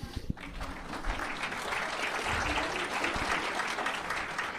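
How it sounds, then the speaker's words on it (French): Audience applause at a public talk on Savoy sovereignty, beginning with a few scattered claps and building into steady, dense clapping from a roomful of people. "oui, vous pouvez applaudir."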